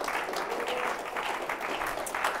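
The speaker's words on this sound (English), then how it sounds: "Little round of applause for our host here." A small crowd claps for the host at a men's movement speech event, dense continuous applause with a slight swell near the end.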